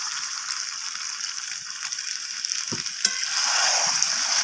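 Chicken gizzard and liver sizzling in a pan, a steady hiss with a clatter before a splash of water makes the frying surge louder and brighter, no talk.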